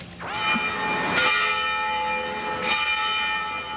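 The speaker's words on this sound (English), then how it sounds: "These bells ring a sad song for the victims of the Oklahoma City bombing." Church bells ring out in a memorial tribute for victims of the Oklahoma City bombing, loud, resonant strikes with long ringing tails, two clear peals sounding alone without speech.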